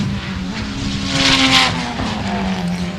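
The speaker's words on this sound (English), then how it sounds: "as we see Todd going around the first corner" Reed Speed Fortunato time attack race car in GTA 4 cornering at speed, engine droning loudly with a brief tire squeal partway through, no talking.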